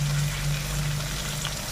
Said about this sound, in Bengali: এগুলো একটু হাই ফ্লেমে আমি এবারে নেড়ে নেব।